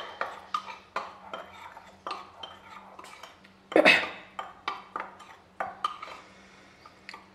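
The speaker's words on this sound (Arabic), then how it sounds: "غنخلط الدقيق مع البيكنج باودر" Metal utensil clinking and scraping against a bowl in repeated short strokes, mixing flour with baking powder, close by, with one louder clatter midway; no talking.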